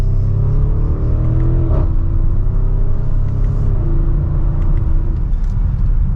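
A 2023 Audi SQ7 SUV pulls hard from second gear, its engine a loud, steady, close-up rumble with rising revs, a brief shift-like dip partway through, then continued smooth acceleration.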